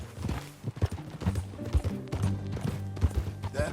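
Horse hooves clip-clop in a steady trotting rhythm in Red Dead Redemption 2, close and clear, with a faint whinny and quiet music underneath.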